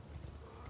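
Horse hooves clip-clopping at a steady gallop in the Elden Ring video game, with a faint whinny, loud and continuous with a low rumbling background.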